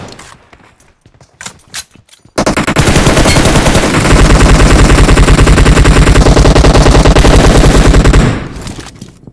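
Gunfire in the mobile shooter PUBG Mobile: a few scattered shots, then a loud, sustained automatic burst firing rapidly for about six seconds before cutting off.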